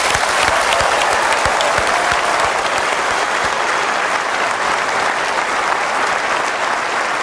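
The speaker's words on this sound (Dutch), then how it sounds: "Mag ik nog 1 keer een groot applaus voor Robert Dijk" A large studio audience gives physicist Robbert Dijkgraaf sustained, loud applause after his lecture on Albert Einstein. The clapping is thick and continuous, with a few sharper claps standing out early on.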